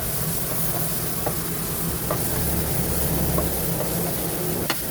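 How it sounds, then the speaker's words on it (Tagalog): Garlic and leeks sizzling in melted butter in a pan, a steady close frying hiss with a few light clicks of stirring. "Kapag natunaw na yung butter, ilalagay na natin dito yung ating bawang"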